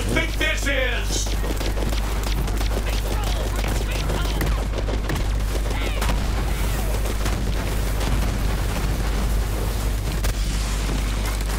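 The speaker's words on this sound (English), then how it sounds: "he's just spamming grenades everywhere" Grenades explode repeatedly in the video game Borderlands 3, dense booming blasts and gunfire packed together in a constant loud barrage, with a voice talking over it.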